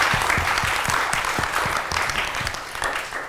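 Studio audience applause on a morning talk show, a dense burst of many hands clapping close and loud, tapering slightly toward the end, with no voices.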